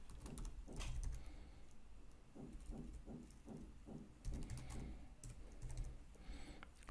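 Close, quiet keystrokes patter unevenly as code is typed on a computer keyboard, a run of soft clicks with brief pauses and no talking.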